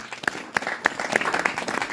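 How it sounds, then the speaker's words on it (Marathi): An audience claps in short, uneven bursts, a modest crowd applauding at close range for a couple of seconds. "टाळ्यावर टाळ्या"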